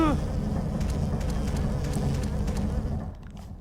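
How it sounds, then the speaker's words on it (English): Giant killer bees in the Silent Hill 4: The Room forest give off a steady, droning insect buzz, fairly close and continuous, with some low background noise before it fades out at the end. "Especially when you're being attacked by giant killer bees"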